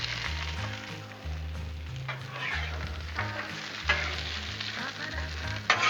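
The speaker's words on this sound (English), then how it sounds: "I'm gonna just dump my fries on here." A whole bag of extra-crispy fries sizzles on an oiled Blackstone griddle, a loud, steady frying crackle broken by scraping strokes as they are spread and coated, with a sharp clack near the end.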